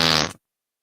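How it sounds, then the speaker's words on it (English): A single loud fart sound with a buzzing, tonal, slightly laughing quality lasts about a third of a second and then cuts off abruptly into silence. "It almost sounds like a laughing fart."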